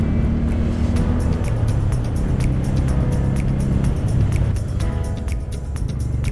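A vehicle overtakes on a countryside road during a motorcycle tour, with loud, close engine and road roar building and then easing over several seconds, mixed with rushing wind noise.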